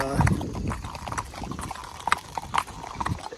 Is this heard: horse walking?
yes